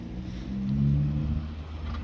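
A car drives up with a low engine rumble that swells to a peak and then holds steady, fairly close and without voices.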